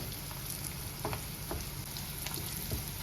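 Prawns frying in a pan for a spicy Telugu-style fry, with a steady continuous sizzle and occasional soft pops and crackles, close and even throughout with no voices.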